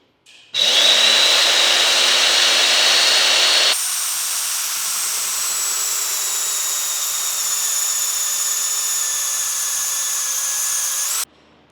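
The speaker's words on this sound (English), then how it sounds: "See how that mag drill bored a hole straight through this square tube." A magnetic drill whines loudly as it bores through square steel tube, then drops to a lower, steadier grinding hum for several seconds before stopping abruptly.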